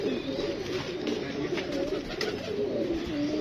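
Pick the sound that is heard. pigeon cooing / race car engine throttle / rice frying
pigeon cooing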